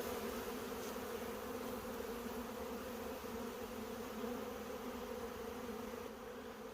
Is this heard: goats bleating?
no